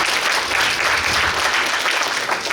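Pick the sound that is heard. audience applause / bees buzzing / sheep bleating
audience applause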